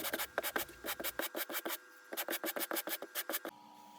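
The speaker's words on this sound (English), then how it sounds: "Here I'm flattening the back of the box, and I'll also flatten the back of the panel." Rhythmic rubbing strokes as the back of a wooden bandsaw jewelry box is flattened to remove bandsaw teeth marks, about twenty quick scrapes in bursts with a short pause, close and fairly quiet.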